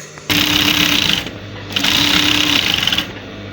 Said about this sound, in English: just running the stitch as you can see me do, to close up the rough edge